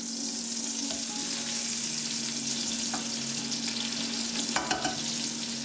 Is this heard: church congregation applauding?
no